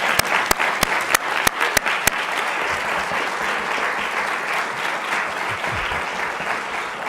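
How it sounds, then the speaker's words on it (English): Audience at a pre-law hall of fame ceremony breaking into applause for an honoree: several sharp individual claps up front, then a sustained wash of clapping from a roomful of people. "Evangeline Mitchell, I think you deserve a standing round of applause"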